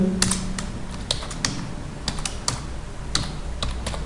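Irregular clicks of a computer keyboard as HTML code is typed, close, crisp keystrokes in uneven bursts with brief pauses between.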